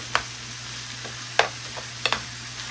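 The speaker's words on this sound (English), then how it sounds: "I'm going to go ahead and give it a stir." A cheese steak filling gets stirred in a hot pan, with a steady low sizzle broken by three or four sharp scraping clicks of the utensil against the pan, close and fairly quiet.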